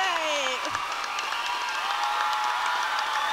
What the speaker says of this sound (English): We're getting a standing ovation